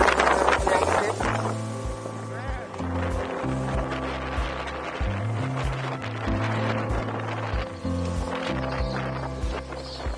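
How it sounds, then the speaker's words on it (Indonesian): Strong wind gusts buffet the microphone during a solo bicycle ride around Jeju Island, a loud continuous rumble and roar that swells and dips for the whole stretch. "di hari pertama ini hembusan anginnya sangat kencang"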